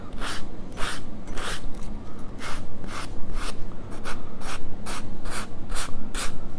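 Coarse abrasive sanding paint off wood by hand, a rhythmic series of quick scratchy back-and-forth strokes, close and fairly loud, repeating steadily with no talking.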